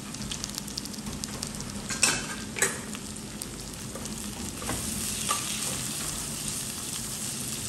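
Peppers and garlic fry in a pan with a steady close sizzle, broken by a few sharp clinks and scrapes of a utensil against the pan early on, and no talking.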